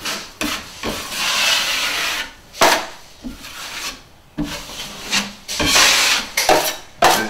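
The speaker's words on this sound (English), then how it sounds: "now we're going to wipe the mud in, wipe the tape out" A drywall knife scrapes joint compound over paper tape on a wall in a series of rough, rasping strokes, each a second or two long with brief pauses between, close and fairly loud, with no talking.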